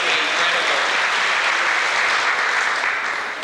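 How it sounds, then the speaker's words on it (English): Wedding guests applaud in a steady, dense burst of clapping that stays loud and even throughout, with no voices over it. "I think we owe an applause to the weather."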